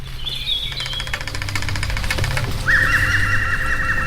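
Forest soundscape with blackbirds and woodpeckers calling: whistled bird phrases rise over a rapid knocking pulse and a low droning background, layered and fairly close.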